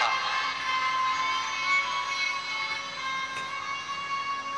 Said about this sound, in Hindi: जोरदार ताली बजाकर देखो